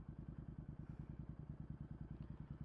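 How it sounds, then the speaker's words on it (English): A motorcycle idles through a medium-loud exhaust, giving a steady, even low putter of rapid regular pulses. Close and constant for the whole stretch, with no talk over it. "how does it sound with a bike on idle with a medium loud exhaust?"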